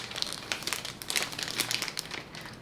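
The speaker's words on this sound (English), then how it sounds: "Now let's get to the unwrapping." Wrapped books being unwrapped, with close, continuous crinkling and rustling of paper that comes in quick irregular crackles and soft tearing, and no talk over it.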